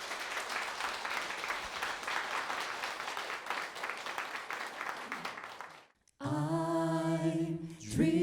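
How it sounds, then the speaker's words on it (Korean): Audience applause welcoming a mixed a cappella group at a year-end talk concert, steady clapping that cuts off briefly before sustained harmonized singing voices rise. "큰 박수로 맞이해 주시기 바랍니다"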